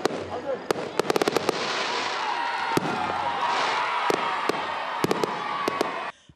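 New Year's midnight fireworks over Odienné: sharp bangs and crackling bursts, some in quick runs, over a constant roar of explosions and crowd noise that fades out at the end.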